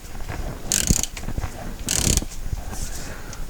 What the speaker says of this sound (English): So now we have to get a 3-jaw puller in behind here and pull that off